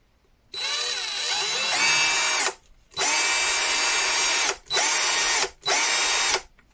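An Einhell TC-CD 18/35 Li cordless drill with a 2.5 Ah battery whirs at high speed in four bursts, the first longest, each starting and stopping abruptly with brief silences between, loud and close.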